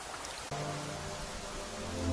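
Steady rain pours down during a storm, a dense unbroken hiss with a faint low rumble underneath and a brief dip near the start, no voices.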